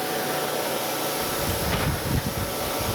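Coolant mist from an air compressor feeding a surface grinder grinding a camelback straightedge, heard as a loud continuous broadband hiss with a low rumbling machine undertone, steady and close with no talking.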